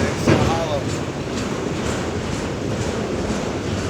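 Very long freight train of empty, hollow-sounding cars rolling past close by, a continuous loud rumble with faint rhythmic clatter of wheels, a brief voice near the start.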